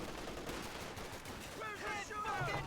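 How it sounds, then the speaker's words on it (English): Gunfire and explosions rattle during a Company of Heroes 2 match as an artillery barrage comes in, a dense bed of distant bursts and shots with brief voice-like tones near the end. "That'll be a phosphorus barrage."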